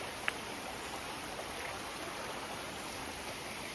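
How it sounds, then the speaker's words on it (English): A river stream at Rivelin, water flowing in a soft, steady rush that stays faint and distant throughout, with a single small click near the start and no talk. "Can you hear the water?"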